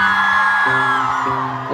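A big concert crowd at a festival in Maribor roars and whoops loudly and steadily, with sustained tonal singing or music running through the cheering.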